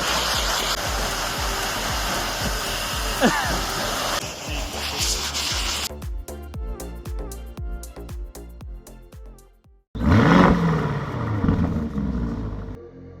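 A loud, roaring air blower drying a car during mobile car cleaning runs steadily, cuts out with a rapid clattering, then roars back to full force.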